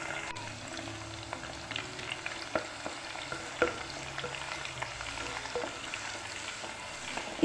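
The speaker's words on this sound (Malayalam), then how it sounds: "ഇനി നമ്മൾ അരിഞ്ഞു വെച്ചിരിക്കുന്ന പച്ചമുളകും ഇഞ്ചിയും വെളുത്തുള്ളിയും മറ്റും ഇതിലേക്ക് ഇട്ട് കൊടുക്കാം. ഇത് നമുക്കൊന്ന് നന്നായി വഴറ്റിയെടുക്കണം." Green chilies, ginger and garlic sautéing in a pan for passion fruit pickle, giving a soft continuous sizzle with occasional stirring clicks and scrapes, fairly quiet and close.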